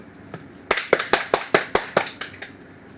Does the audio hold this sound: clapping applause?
yes